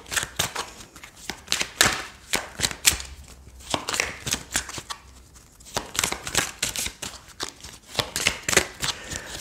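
Oracle cards being shuffled and drawn in quick dense bursts of papery flicks and slaps, close and crisp, with brief pauses between runs and no talk.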